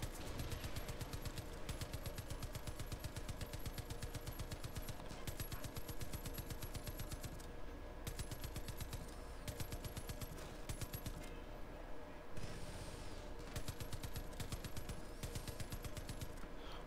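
Rapid automatic gunfire from the video game Far Cry 5, sustained machine-gun bursts with dense repeated shots running almost continuously and loudly throughout, with brief gaps between volleys.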